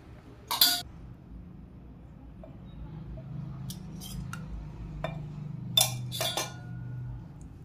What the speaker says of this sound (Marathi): हलवून घ्यायचं आहे असं व्यवस्थित